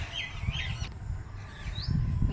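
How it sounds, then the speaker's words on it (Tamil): Parrots calling in a rooftop vegetable garden: a few clear, rising chirps and squawks at moderate distance over low background rumble, with no talking. "கார்டன் வந்தாலே ஒரே கிளிங்க சத்தம்."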